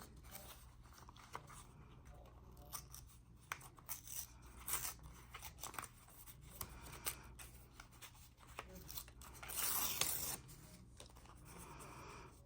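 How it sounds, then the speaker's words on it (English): Paper for an altered playing card craft is torn slowly and quietly at close range, a soft continuous ripping texture with a brief louder tear near the end. "tear the bottom."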